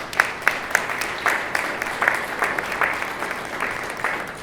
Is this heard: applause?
yes